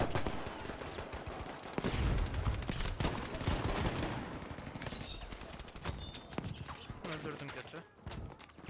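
Rapid automatic gunfire and scattered shots fill a Battlefield 5 match on the Al Marj map, dense and loud throughout, with a player talking over the shooting.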